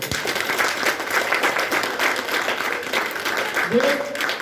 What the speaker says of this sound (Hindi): एक बार जोरदार तालियां होंगी